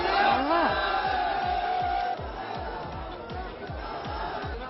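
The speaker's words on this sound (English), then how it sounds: "Massive crowds at Moose Wala's last ride" A massive crowd fills Sidhu Moose Wala's funeral procession with a dense, loud roar of voices and shouts, steady throughout, with a rhythmic thumping beat underneath.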